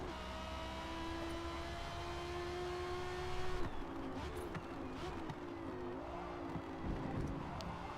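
Forza racing car with a V10 or V12 swap and a centrifugal supercharger, its engine droning with a high, sustained supercharger whine that rises and dips as the car accelerates and shifts, steady and close, with no voices.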